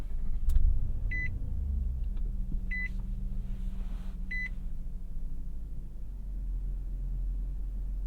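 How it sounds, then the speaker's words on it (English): A 2021 Nissan Armada start: a few short electronic beeps from a push-button start with the brake pressed, over a steady low engine and cabin rumble. "just tap your foot on the brake and push the button to start"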